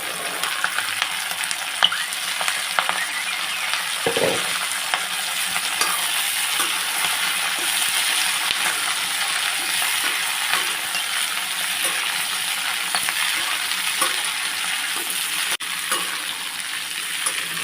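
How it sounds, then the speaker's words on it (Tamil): Small onions sautéing in a pan for a spicy onion-garlic chilli thokku: a steady, close sizzle and crackle with a few scraping stirs, no voices. "இது ஒரு ரெண்டு நிமிஷம் வதக்கிட்டேன்"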